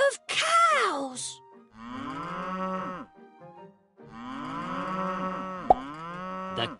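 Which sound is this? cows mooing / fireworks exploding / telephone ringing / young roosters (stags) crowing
cows mooing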